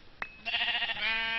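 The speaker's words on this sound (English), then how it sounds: "I wouldn't think it'd be this hard to kill a sheep." Sheep bleating in the Minecraft video game: a brief faint bleat, then a louder, longer, wavering bleat that runs to the end, with no talking.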